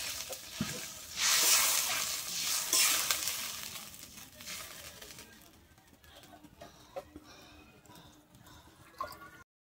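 Water is poured into a pan of parshe fish curry with brinjal and bori, setting off a loud burst of hissing sizzle that settles into a quieter simmer with a few clinks.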